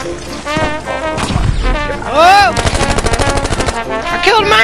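Heavy gunfire in Battlefield V, a fast machine-gun burst of loud close shots mixed with crashes and booms, while people shout and talk over the combat.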